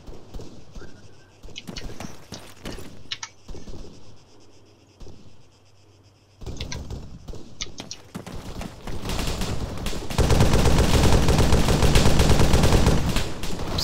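Covering fire in a military video game: scattered single shots and short bursts at first, swelling into heavy, sustained automatic gunfire that grows loud and dense toward the end.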